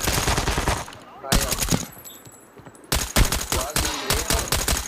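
Automatic gunfire from a shooter video game, several loud bursts of rapid machine-gun fire broken by short pauses, with players talking briefly over it.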